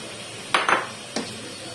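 A spoon knocking against a pot while tamarind-date chutney with jaggery is mixed, three quick clinks and scrapes, close and isolated against a quiet room.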